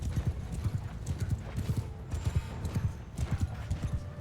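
Cavalry horses from the game Mount & Blade II Bannerlord: rapid, rhythmic hoofbeats thud steadily throughout, close and continuous, with faint battle noise behind them.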